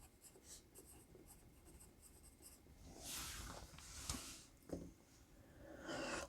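Graphite pencil, a Deli HC809-2B writing pencil with a factory point, scratching across paper in soft short strokes, with louder scribbling bursts near the end; close and quiet, no talk.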